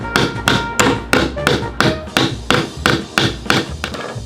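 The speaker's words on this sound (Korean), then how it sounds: "뚝딱뚝딱 망치질 소리." Kindergarten children hammer nails into wood in a classroom: about a dozen sharp, evenly spaced hammer blows in a steady rhythm, loud and close, with no talking.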